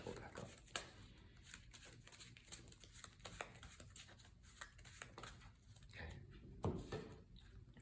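Quick riffling bursts of cards being shuffled, crisp flutters repeating several times at close range, with soft handling noises between them.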